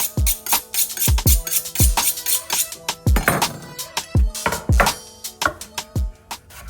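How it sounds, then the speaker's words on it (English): Rapid knife chopping of onions on a cutting board, sharp repeated thuds in an uneven rhythm, close and loud with no talking. "I'm going to start chopping up my onions for the cheesesteak"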